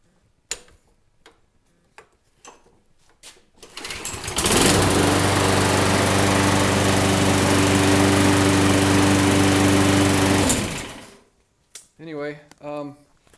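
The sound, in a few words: lawn mower engine starting and running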